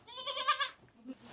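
A baby goat on a farm gives one close, loud, wavering bleat, followed by a fainter second call from nearby kids hungry for milk.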